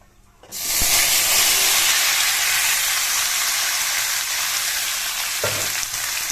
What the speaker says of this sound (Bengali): এখন আমি এটাকে ঢেলে দেব কড়াইয়ের মধ্যে দিয়ে দেব ফ্রাই করে নেব